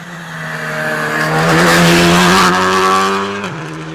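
Paul McKinnon's Skoda rally car, shakedown stage of the 2025 Mull Rally on a slippery, dirty green road, roars past close by; the engine note swells to a loud peak midway, then drops abruptly as it shifts down with tyre noise.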